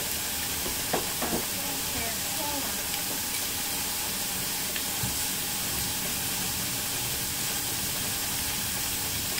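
Pork mince roasting in a pan gives a steady, continuous sizzle and hiss, with a few brief clinks of stirring near the start.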